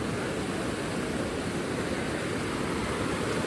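Floodwater from heavy rain surges past a flooded embankment, a steady, dense roar of rushing water that stays loud and unbroken throughout, with no voices over it.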